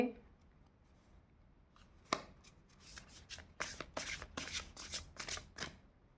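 Playing cards are shuffled and laid down by hand during a tarot reading, a run of crisp, close riffling and slapping bursts that grows busier in the second half, with faint background noise and no talk.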